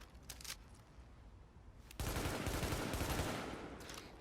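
Gunfire in the video game The Division, a faint early shot or two followed by a sustained burst of rapid automatic fire in the second half.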